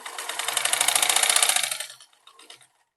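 Sewing machine stitching a strip onto a strap kurti, running in a steady rapid whir for about two seconds before stopping, then a brief faint rattle.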